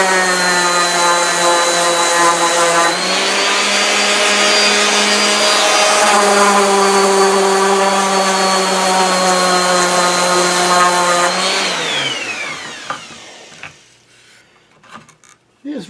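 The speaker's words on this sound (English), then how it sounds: "gonna try the orbital sander, see if I can dig in some" Orbital sander working a cherry wood square tray, a loud steady whining hum up close whose pitch shifts slightly partway through, then winds down and stops near the end.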